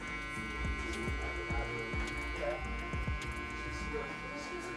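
Electric hair clippers buzzing steadily at close range while fading curly hair, with a continuous hum and faint cutting texture under a voice talking.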